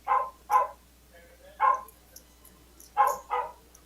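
A dog barks in the background during a remote call, five short separate barks coming in uneven pairs, moderately distant with no talking over them.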